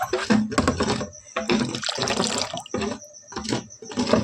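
Tap water pouring into drums at a household during a night-time water supply, a loud splashing, gushing stream that surges and breaks in uneven bursts.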